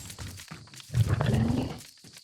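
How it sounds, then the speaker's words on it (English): A giant ladybug in the Empire of the Ants video game gives a deep, rumbling roar that swells for about a second and then fades, loud and close, with faint growling before and after. "It makes roaring noises."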